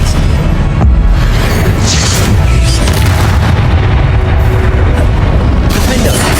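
The Confringo blasting spell goes off in Hogwarts Legacy, a loud, dense continuous barrage of booms and rumbling blasts with no letup, under faint voice.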